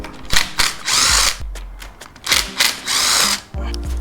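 Power tool whirring in short close bursts as it undoes the two bolts holding the oil cooler piping on an Africa Twin motorcycle, with several loud rising and falling spins and brief pauses between them.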